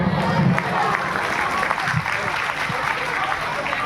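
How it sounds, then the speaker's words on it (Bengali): A congregation at a church sermon clapping for the Lord, dense sustained applause from a crowd with voices mixed in throughout. "জুড়ে একবার প্রভুর জন্য করতালি দিই"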